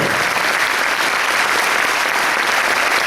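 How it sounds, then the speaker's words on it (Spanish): Audience at a Paraguayan harp day event gives a sustained round of applause honoring harp master Félix Pérez Cardoso, dense even clapping filling the space without pause. "queremos pedir un minuto de aplausos al gran maestro Félix Pérez Cardoso"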